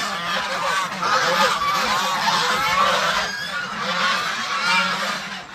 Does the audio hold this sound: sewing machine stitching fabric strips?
no